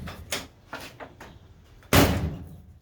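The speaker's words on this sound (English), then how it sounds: "here's a test of the door opening and closing" The door of a 1963 Chevrolet Impala under body work is swung through a few light latch and handle clunks, then slammed shut with one loud, solid thud that rings briefly.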